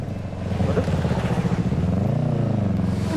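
A motorcycle engine runs close by as it is ridden, giving a steady throbbing hum with a slight rise in pitch near the end and no break in the sound.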